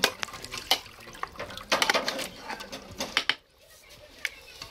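Food for a chicken feast is stirred in a metal pot outdoors in a forest, with repeated clinks and scrapes of a utensil against the pot and some background sounds before it goes quiet.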